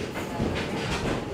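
A Malaysian jungle train rolls steadily along its rails with a continuous broadband rumble and faint rhythmic clatter, heard from inside the carriage at a constant, moderate level.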